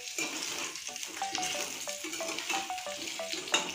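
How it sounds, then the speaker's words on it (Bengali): Potatoes frying in a pan beside jackfruit fritters, a close, steady oily sizzle with faint crackles and a few soft utensil taps, no voices. "এখানে আলুটা আমি লাল লাল করে ভেজে নেব"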